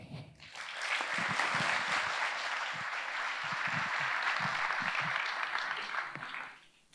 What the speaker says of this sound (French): merci euh, d'applaudir Geneviève